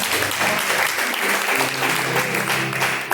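A church congregation claps loudly in praise of the Lord, a dense continuous wash of hands with a faint hum of voices or music beneath.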